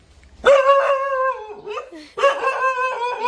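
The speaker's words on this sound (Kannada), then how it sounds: "ಇದೊಂದು ನಾಯಿ ಭಾರಿ ಜೋರುಂಟು ಆವಾಗದಿಂದ ಬೊಗಳ್ತಾ ಉಂಟು ಬೋ ಬೋ ಅಂತ" A loud, close dog barks and howls in two long drawn-out calls with a pause between, heard alone without talk.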